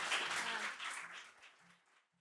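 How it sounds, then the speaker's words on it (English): Audience applause at a One Health anniversary event, a burst of clapping that is strongest at the start and thins out over about two seconds. "Please join me in applause to Diane."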